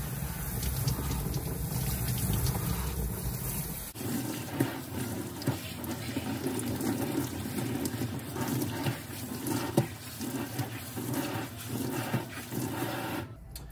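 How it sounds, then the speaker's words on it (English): Water running steadily to rinse shampoo out of a wig, a continuous close splashing and trickling with a change in flow partway through and small knocks along the way. "the biggest thing is you just want to rinse, rinse, rinse, rinse, rinse"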